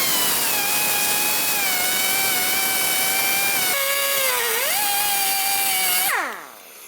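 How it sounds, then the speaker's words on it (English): An angle grinder cuts off the rivet heads holding a front lower ball joint on a 2005-2010 Chevrolet Cobalt. It gives a loud, steady high whine with one dip in pitch under load, then winds down at the end. "All I want to do is go ahead and grind off the head of each of these right here."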